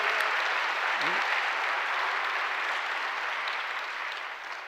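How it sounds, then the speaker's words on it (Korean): A church congregation at a Korean Presbyterian Sunday service claps together in a long, steady round of applause that stays strong and slowly fades toward the end, with a brief voice near the start. "그 40명의 선생님들 위해서 한번 박수하십시오."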